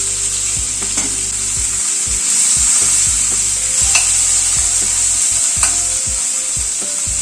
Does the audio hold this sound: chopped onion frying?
yes